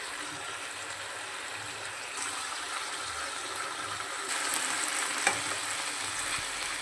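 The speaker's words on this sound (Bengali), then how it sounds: "চালটাকে 30 থেকে 40 সেকেন্ড মতন ফ্রাই করতে হবে" Gobindobhog rice frying in a pan with salt and turmeric, a low steady sizzle that grows a little louder midway, with an occasional faint clink of stirring.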